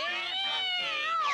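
A cartoon cat meows in a drawn-out, wavering cry of about a second and a half, loud and close, in a Popeye animated episode.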